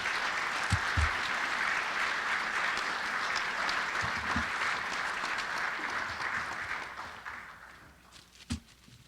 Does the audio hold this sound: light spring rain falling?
no